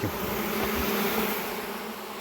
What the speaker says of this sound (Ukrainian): Ну тут бачимо, що матки нема, бджола гуде, значить матки немає